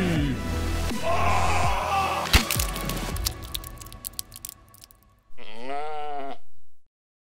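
A sheep bleats once, a loud wavering cry that comes alone near the end. Before it comes a dense burst of mixed noise with sharp knocks and clatter.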